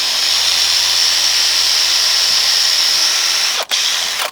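A power drill driving screws into wood while rebuilding a barn, a loud sustained whine at close range that holds steady for about three and a half seconds, then cuts out briefly and starts again.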